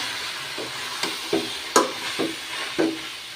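Chalta pickle being stirred in a pan gives a soft frying hiss under a series of regular scraping and knocking strokes from a spoon, about one every half second.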